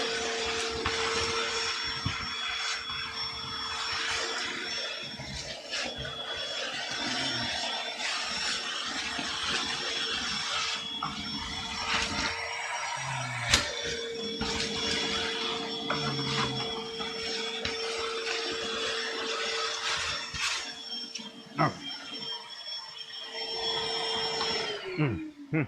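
A wood lathe spins a fountain pen blank with a steady whine and constant whirring, tonal hum held throughout with brief knocks and tool scrapes, close and fairly loud.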